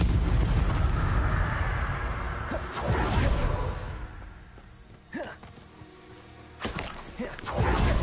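Spell casting in the video game Hogwarts Legacy: a dense run of whooshing bursts and booming impacts, loud and close, with sharp blasts near the middle and end over a rumbling background.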